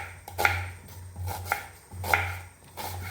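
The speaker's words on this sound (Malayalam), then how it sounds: "അത് നല്ലോണം കട്ട് ചെയ്തിട്ട് എടുക്കാം." Two onions being chopped with a knife on a board, a handful of sharp, separate knocks spaced irregularly, close and fairly clear over a low steady hum.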